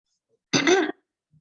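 A voice imitates a cough with a single short throat-clearing cough, close and alone against silence.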